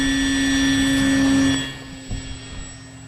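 Electric motor of a Tower Hobbies ASW 28 RC glider at roughly half to three-quarter takeoff throttle, a loud steady whine with bright harmonics that drops off after about a second and a half, leaving softer rumbling and a small bump.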